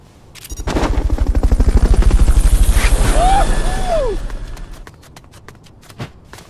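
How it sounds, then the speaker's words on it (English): A helicopter in the video game Metal Gear Solid: Peace Walker, a loud rhythmic rotor thumping that swells in, holds steady, then fades away, with brief electronic sweeps and game sound effects. "Fulton recovery helicopter is complete"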